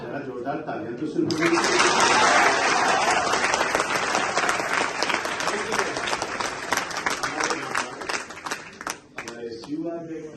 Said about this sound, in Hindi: जरा जोरदार तालियां तो सुन